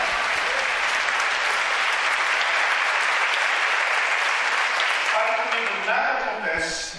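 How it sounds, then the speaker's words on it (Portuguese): A church congregation at a worship conference bursts into sustained, dense applause that holds steady and loud for several seconds, then thins as scattered claps fade near the end. "dê uma salva de palmas ao Senhor"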